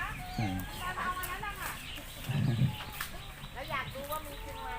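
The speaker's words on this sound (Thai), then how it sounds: "มีการเลี้ยงไก่โอ้โหไก่ไข่ ไก่ไข่ครับ" Laying hens on a farm cluck and squawk in short bursts at moderate distance, with a louder cluck cluster midway, while someone talks over them throughout.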